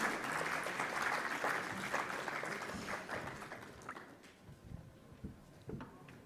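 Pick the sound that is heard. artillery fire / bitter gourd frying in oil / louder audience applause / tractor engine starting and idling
louder audience applause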